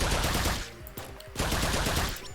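Rapid automatic fire from the Toxic Gunner tower in the Roblox-style game Tower Defense Simulator, a dense, steady stream of shots with a short lull midway, with no voices.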